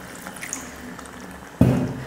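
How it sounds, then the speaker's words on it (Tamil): Water is poured into a goat liver gravy in a home kitchen, a sudden splashing, gurgling pour that begins after a quiet stretch with faint background noise and carries on to the end. "ஈரல் வந்து முங்குற அளவுக்கு மட்டும் தண்ணி ஊற்றிக்கிட்டால் போதும்."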